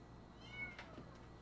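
A cat gives a short, faint meow, one brief rising cry over a quiet background.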